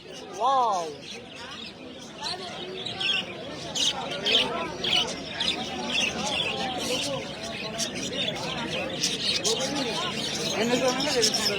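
Caged birds at a village bird market chirp and tweet in busy, overlapping calls close by, mixed with crowd babble and a person talking over them throughout.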